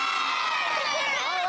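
A crowd of family and friends cheers and whoops together at a home makeover reveal, voices rising in a dense, excited roar throughout, with children shouting among them.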